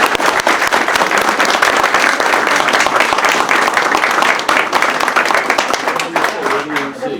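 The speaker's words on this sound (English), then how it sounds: "So let's have a round of applause." A crowd at a post office naming ceremony claps steadily in dense, sustained applause that thins slightly toward the end, with voices murmuring underneath.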